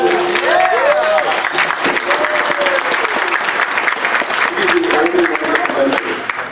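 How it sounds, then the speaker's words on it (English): Loud, sustained applause from a large audience at a Metal Gear fan discussion panel, dense clapping throughout with crowd noise and occasional cheering mixed in. "give this guy a round of applause"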